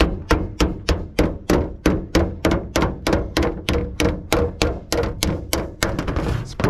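Hand hammer striking standing seam metal roofing on an anvil, a steady series of about two dozen loud, close metallic blows at a regular rhythm, with no talking.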